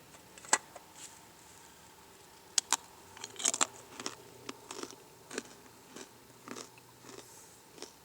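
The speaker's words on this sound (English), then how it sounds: "the only thing remains is to have a bite" Someone bites into and chews a crunchy, sweet homemade Christmas treat, giving a scattered series of sharp, close crunches and crackles over about eight seconds with no talking.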